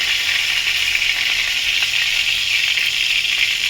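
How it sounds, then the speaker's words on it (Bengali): Black cumin seeds tempering in hot oil in a home kitchen, giving a steady, bright sizzling hiss that stays loud and continuous throughout with faint crackles. "কালো জিরা ফোড়ন দিয়ে দিলাম"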